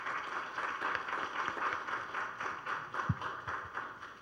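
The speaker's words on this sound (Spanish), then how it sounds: "Le damos un fuerte aplauso, por favor." Steady applause from an audience at a debate contest, a continuous wash of many hands clapping at moderate distance, with a few sharper individual claps standing out near the end.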